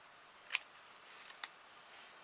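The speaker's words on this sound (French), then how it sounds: "si vous voulez faire un petit effet, on peut couper les pointes ici" Scissors snip the points off a piece of paper in a quiet room, two or three short crisp cuts spaced apart.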